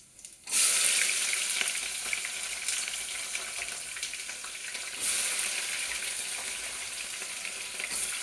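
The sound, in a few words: onions and green chillies frying in a pan for biryani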